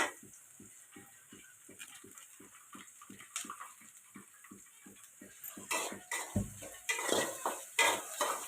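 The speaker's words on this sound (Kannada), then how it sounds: "ಈರುಳ್ಳಿ, ಹಸಿಮೆಣಸಿನ್ಕಾಯಿ ಚೆನ್ನಾಗಿ ಫ್ರೈ ಆಗಲಿ" Onions and green chilies frying in a pan, heard as a rapid regular scraping of a spoon against metal with a soft sizzle beneath, growing louder and more clattering toward the end, close by with no voices.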